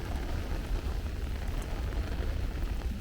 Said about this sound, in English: It is really raining right now. It is really coming down.